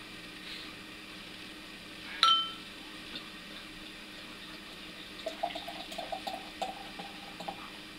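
Brakspear Organic Oxford Gold beer poured into a glass: a faint clink at the bottle's start, then quiet trickling and soft splashing of liquid filling the glass in a hushed room.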